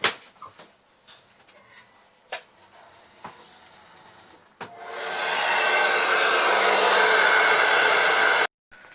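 A hair dryer drying watercolour paint: after several faint clicks and knocks, the dryer switches on with a loud, steady rushing blow that runs for about four seconds and then cuts off abruptly.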